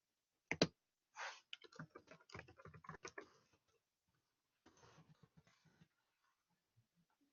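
Keys clatter on a computer keyboard as a chat message is typed in quick, close bursts of clicks, a pause, then a shorter second flurry, with no talk.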